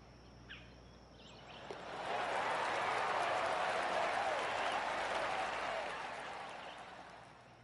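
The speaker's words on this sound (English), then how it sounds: "Sometimes you've just got to stand and applaud." A crowd applauds the champion at a golf tournament in PGA Tour 2K21, the clapping swelling after a couple of seconds into a broad, sustained roar before slowly tapering off.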